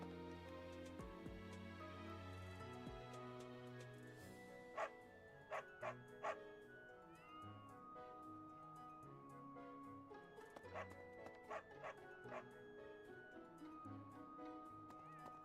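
Several short dog barks from a dog in Fire Emblem Three Houses ring out in bursts of two and three over a soft, steady game soundtrack. Light clip-clop and ticking sounds sit under the music.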